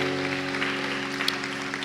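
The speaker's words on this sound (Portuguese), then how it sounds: "Se coloque de pé, aplaudindo o nome de Jesus." Church congregation at a Friday evening service applauding, a steady soft wash of clapping under a sustained low musical drone, with no clear voices.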